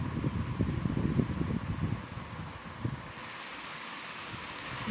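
An electric beater whips vanilla sponge cake batter made with cake gel, giving a steady, close whirring for about two seconds before dropping to a quieter, thinner hum.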